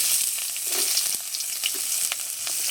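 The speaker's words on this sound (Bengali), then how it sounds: "আর দিয়ে দিচ্ছি পেঁয়াজ কুচি" Chopped onion, dried red chillies and whole cumin seeds fry in hot oil with a loud, steady crackling sizzle, close up, with a few soft stirring scrapes.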